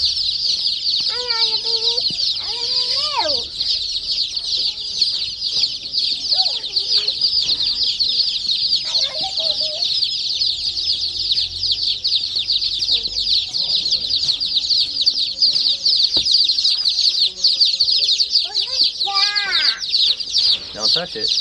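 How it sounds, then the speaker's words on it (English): Baby chicks keep up a dense, continuous high peeping close by, with a voice and other talk breaking in now and then above the constant chorus. "Baby chickens."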